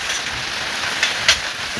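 Heavy rain falling steadily on a yard during an evening downpour, a continuous broadband hiss with a couple of brief louder splashes or drips, no voices.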